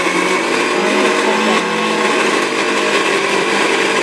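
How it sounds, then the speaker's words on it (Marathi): A mixer grinder whirs steadily as it grinds pan-roasted coconut and onion into a paste for spicy cabbage, loud and close, a continuous motor drone with no talking. "याला पण आपण बारीक वाटून घेऊ, म्हणून मी तव्यावरच भाजून घेतला खोबरं आणि कांदा।"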